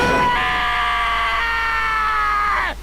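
A single sustained high-pitched scream from a voice actor in the game Danganronpa: Trigger Happy Havoc, loud and held for about two and a half seconds before cutting off sharply.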